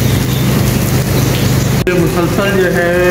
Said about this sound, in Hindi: जिस हिसाब से यहाँ बारिश हो रही है इस वक्त तेज़